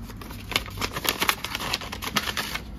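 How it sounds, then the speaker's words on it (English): Paper cash bills being handled and stuffed into paper envelopes from a dollar store, a close series of quick crisp rustles and flicks with no voices. "we're going to put a 20 and a 1 in this envelope, and we're going to put a 5 in this envelope"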